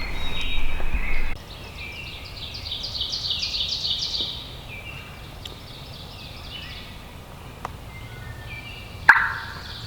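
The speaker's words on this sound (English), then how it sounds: "Gobbled 2 times back to back." Wild turkey gobbling in a Connecticut woodland at dawn, two gobbles back to back at a distance, fairly faint, with a bird call or two and light background noise.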